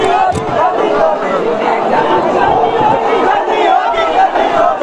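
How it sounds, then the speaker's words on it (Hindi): A large, unexpected crowd of young people at a rally demanding a CBI inquiry makes a continuous loud roar of shouting and babble, close and dense for the whole stretch. "देखिएगा अगर भीड़ की बात करें तो वाकई बहुत अप्रत्याशित सी भीड़ है यहाँ पर"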